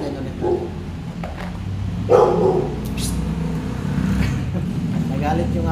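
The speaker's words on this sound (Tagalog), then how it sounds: "Nagalit yung aso." A dog gives a few loud barks mid-distance, at the start and again near the two-second mark, over steady background noise and murmured talk.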